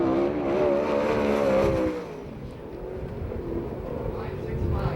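A USAC/CRA sprint car roars through a qualifying lap at Perris, its loud engine rising in pitch and then fading after about two seconds into a duller rumble, with a voice over it.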